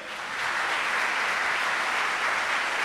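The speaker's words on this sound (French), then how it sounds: "On applaudit Jean-Jeff Lefebvre" Studio audience applause for the host of a televised school quiz show, a rise of dense clapping that quickly reaches a full, steady level and holds to the end.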